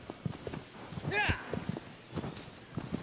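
Horse hooves in Shadow of the Colossus on PS5, a few quick clip-clop steps with a brief whinny-like cry in the middle, heard under a person talking.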